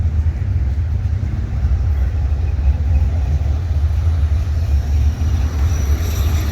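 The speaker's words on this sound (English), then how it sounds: "Got a few more cars coming in." Engines of cars arriving at a summer car meet rumble low and steady, a continuous close idle drone with no talk.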